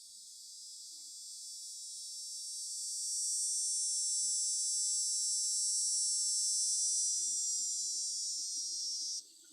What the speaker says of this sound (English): one of the main species is called the dog day cicadas. So you hear them and see them during the dog days of summer.